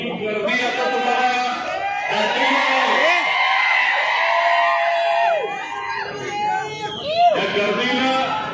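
Large crowd at a municipal election rally in Barshi, cheering, whooping and shouting together over a speaker's voice, with loud, sustained swells of noise.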